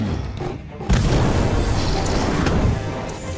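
Incendio fire spell going off in Harry Potter: Magic Awakened, a heavy booming burst that hits about a second in and keeps roaring loud and dense to the end.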